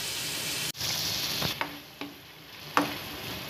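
Onions and tomatoes frying in a pan, a steady close sizzle broken by a few sharp clinks and a lid-like knock, with no talk.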